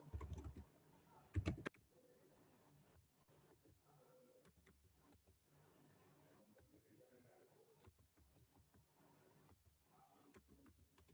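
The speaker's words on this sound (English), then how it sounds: "you have to type your email address" An email address typed on a computer keyboard, quiet rapid key clicks, with a couple of louder taps at the start, then soft, steady clicking over a faint background.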